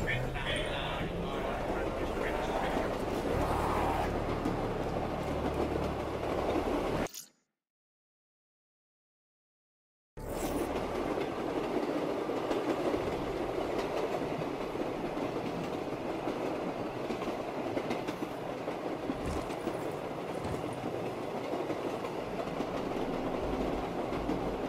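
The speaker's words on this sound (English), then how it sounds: "I ride this train every damn day." A train ride in Call of Duty Black Ops 3 Zombies on the Shadows of Evil map, a continuous loud rumble of rails and rattling carriages, broken by a few seconds of total silence midway before the rumble resumes.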